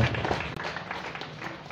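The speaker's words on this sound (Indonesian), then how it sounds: "Tepuk tangan untuk Pancasila yang sakti, ya." A crowd at a Pancasila celebration in Cirebon, Indonesia, applauds in a continuous, moderately loud burst of mixed clapping that fills the whole moment.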